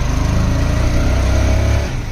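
Motorbike engine running steadily while riding, a loud continuous buzzing drone with a slight drop in level near the end.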